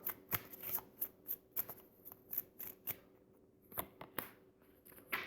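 Tarot cards are shuffled and drawn by hand in a quiet room: a series of soft, crisp card snaps and flicks in an uneven rhythm, close and faint, with no talk.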